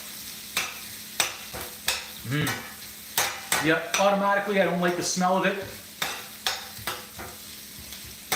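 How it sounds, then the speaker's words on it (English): Steak sizzling in corn oil in a hot pan with repeated stirring and scraping clinks, punctuated by a person speaking briefly midway. "We got more of a sizzle going now."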